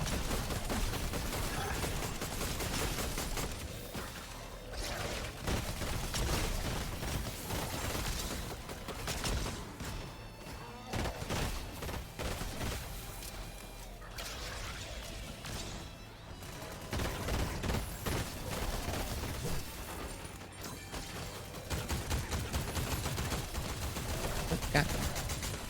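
Rapid bursts of pistol gunfire in Fortnite, repeated in dense volleys throughout amid other game combat noise, with people talking over it.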